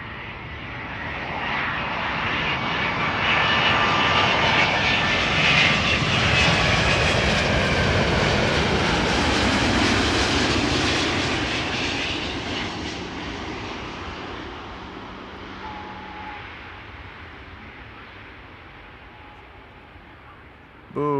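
A Boeing 787 Dreamliner airliner touching down and deploying its spoilers, a loud broad jet roar swelling to a peak and then slowly fading as the aircraft rolls out, heard alone without talk.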